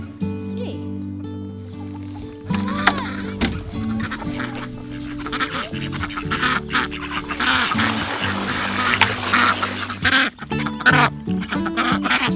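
Farm pond ducks, including hookbill drakes, quacking in a busy mix of honks and squawks, with repeated calls layered over steady background noise throughout.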